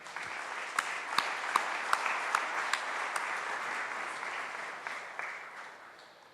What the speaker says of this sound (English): Please clap for all of them.